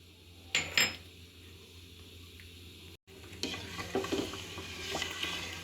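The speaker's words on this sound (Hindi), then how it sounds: "चीनी को डिज़ोल्व करने के लिए हम साथ में चम्मच चलाते जाएंगे" A spoon stirs melting sugar with green cardamom pods in a pan over medium flame, giving soft scraping strokes and light clinks near the start, a brief cut, then steady stirring with faint sizzling for an apple murabba.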